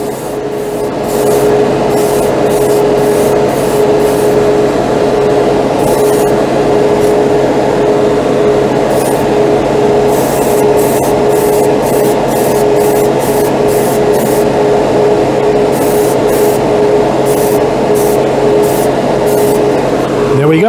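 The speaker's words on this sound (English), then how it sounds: "We're going to go straight from the bottle into the airbrush." An airbrush sprays unthinned white Stynelrez acrylic primer straight from the bottle, giving a loud, close, unbroken hiss that runs the whole time, with faint rhythmic ticking above it.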